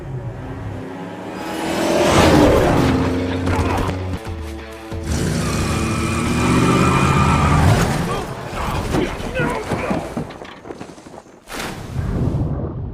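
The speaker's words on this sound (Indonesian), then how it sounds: "sebuah mobil tiba-tiba menabraknya dari belakang" A car hits a man from behind on a small bridge in a film, heard as engine roar, skidding and a crashing impact with shattering debris, layered with voices and dramatic mixed sound.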